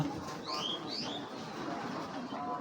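Pigeons, a pair of male and female birds, coo softly in a few short calls over a low background hum, with faint room noise throughout.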